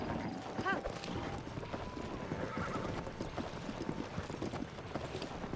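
A horse in The Legend of Zelda: Tears of the Kingdom clip-clops with steady hoofbeats and lets out a sharp neigh early on, all under a steady game background.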